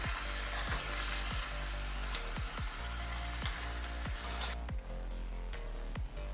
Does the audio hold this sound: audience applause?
no